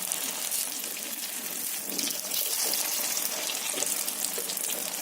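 An egg batter snack deep-frying in hot oil makes a steady, close, bright hiss of bubbling oil that continues without a break and has no talk over it.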